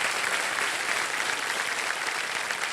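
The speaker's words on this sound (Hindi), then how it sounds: "बहुत जोर से ताली बजा" Enthusiastic audience applause in a TV quiz show studio, a dense, steady wash of clapping from a large crowd that carries on throughout without a break.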